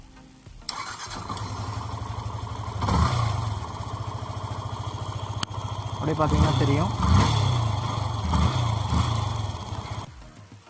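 A Yamaha Fazer V2 motorcycle with a self-start relay problem cranks on the electric starter and catches, then settles into a steady, close, loud idle for about nine seconds while someone talks over it.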